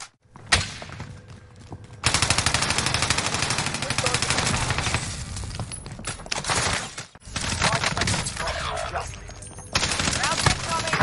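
Video game gunfire rattles in long, dense automatic bursts, close and loud, with short breaks between volleys and voices talking over parts of it.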